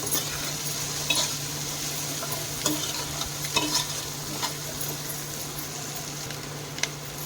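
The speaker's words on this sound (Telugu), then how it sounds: "వేసుకొని ఒకసారి బాగా కలుపుకోవాలి" Chicken and egg stirred into fried rice in a pan, a quiet steady sizzle with intermittent clinks and scrapes of a spatula against metal, close and unhurried.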